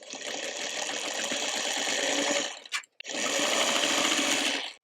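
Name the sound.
sewing machine stitching quilt block pieces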